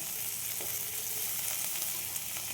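Ginger, with onion and garlic, frying in hot oil for a rajma curry, giving a steady broadband sizzle throughout, close and even, with a few faint stirring clicks and no voices.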